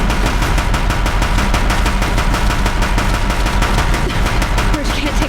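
Heavy machine fire from Deathbringer war machines in Horizon Zero Dawn, a dense, loud and continuous barrage of rapid impacts and blasts with no break across the whole stretch.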